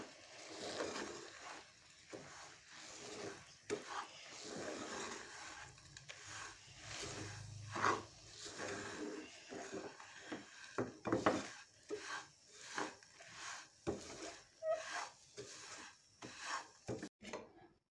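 Flour being stirred a little at a time into a mixture in a pot while making rice barfi, with repeated close scraping and clinking strokes of a spoon against the pot in a steady irregular rhythm.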